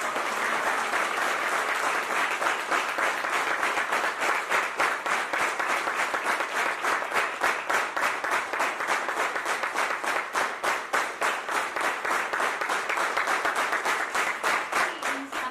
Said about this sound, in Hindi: एक बार इनके लिए एक बार जोरदार तालियां